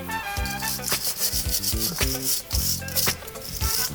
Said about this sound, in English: All I'm trying to do is just agitate the surface, just to take the surface rust off.